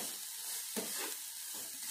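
Chili-spiced vegetables stirred in a pan over a low gas flame, a steady soft sizzle with a few scraping strokes of the spoon, close and even throughout.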